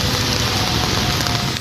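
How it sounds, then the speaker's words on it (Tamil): Rain falls across the Chennai suburbs in a dense, steady hiss. The downpour is loud and close with no voices. "சென்னை புறநகர் பகுதிகளிலும் பரவலாக மழை பெய்தது."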